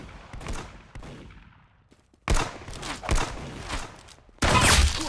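Gunfire in the Roblox shooter Arsenal, with sharp bursts of shots arriving in several loud clusters separated by brief quieter gaps, the last volley dense and intense.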